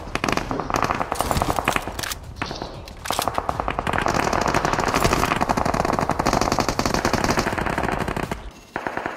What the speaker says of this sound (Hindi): सामने की तरफ से फायरिंग पे फायरिंग की आवाज आ रही है